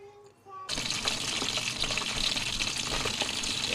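Water runs steadily from a tap as vegetables are rinsed for a Vietnamese bò bún meal, a sustained splashing gush starting abruptly after a brief quiet moment and continuing loud and close.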